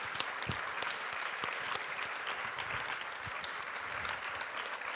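Audience applause after a talk on the future of great apes, a steady, even patter of many hands clapping, quiet and somewhat distant, continuing throughout without speech.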